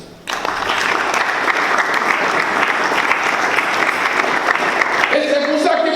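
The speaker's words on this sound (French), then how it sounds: "Acclamons le Seigneur." A church congregation breaks into loud, sustained applause with some cheering during a sermon, dense clapping starting abruptly and holding steady at close range, with voices mixing in near the end.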